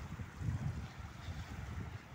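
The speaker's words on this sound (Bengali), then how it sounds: "এই বড় বড় নৌকাগুলোতে হচ্ছে ফিশিং ট্রলার, এগুলোতে মাছ ধরতে যায়" Fishing trawlers at sea give a steady low rumble under gusting wind and water noise, continuous and moderately loud throughout.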